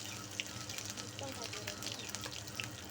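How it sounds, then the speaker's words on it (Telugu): Ginger garlic paste hitting hot oil with tempering seeds for a brinjal curry, a steady soft sizzle with small crackling pops throughout. "అందులో తాలింపు గింజలు వేసుకొని అల్లం వెల్లుల్లి పేస్ట్ అప్పుడే కచ్చపచ్చగా దంచుకున్నది అందులో వేసుకోవాలి"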